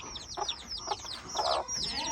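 Baby chicks in a small farmyard in Ghana chirp in quick, high, downward-sweeping peeps, several birds overlapping, close and fairly soft, with a few lower clucks from a hen among them.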